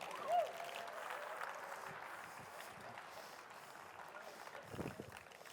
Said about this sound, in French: Voulez-vous applaudir Serge Cusson?